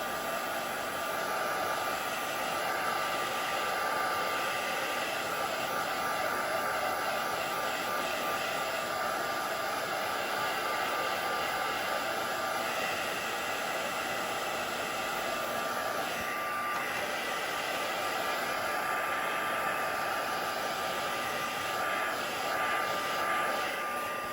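A heat tool blows steadily to dry a handmade card, a loud continuous whooshing roar that holds at the same level from start to finish with no talking over it.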